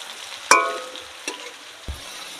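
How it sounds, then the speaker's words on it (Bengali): Potatoes frying in hot oil in a pan, a soft steady sizzle broken by a sharp clink of a utensil and a couple of quieter stirring knocks, with no voices. "তো আস্তে আস্তে আলুটা ভেজে নিই"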